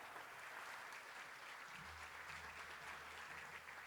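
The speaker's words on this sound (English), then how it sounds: "keep that applause going." Steady audience applause fills a hall at a Northern Territory football Team of the Century awards event, a faint, even wash of clapping that holds throughout with a low hum underneath.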